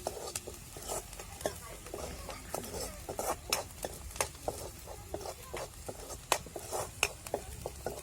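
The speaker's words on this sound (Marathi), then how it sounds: "बघा आता आपला कांदा सगळा व्यवस्थित परतून झालेला आहे" Chopped onion sautéing in a pan, with continuous close stirring and frequent sharp ticks of a spoon against metal over a low sizzle.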